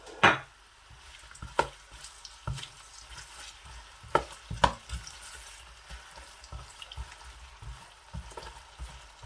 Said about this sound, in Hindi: यूँ ही ऑयल गर्म हो जाए, आपने इसमें सबसे पहले प्याज जो है वो इस तरीके से ऐड कर देना।